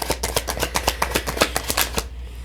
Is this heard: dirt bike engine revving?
no